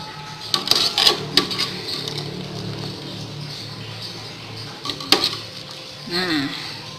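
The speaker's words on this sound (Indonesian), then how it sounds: "Kita tuangkan ke atas mie yang tadi kita sudah rebus." Cooked chicken topping for homemade Indonesian mie ayam being poured from a pan onto boiled noodles, with light clinks of a spoon against a pot and dish and soft scraping, close and moderately quiet over a steady background hiss.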